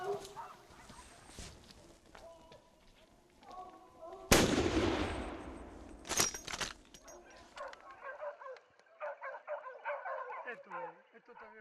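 Hunting dogs bark in scattered bursts at a bayed wild boar amid a sharp loud crack like a gunshot, with people talking over the commotion outdoors during a boar hunt at La Umbría.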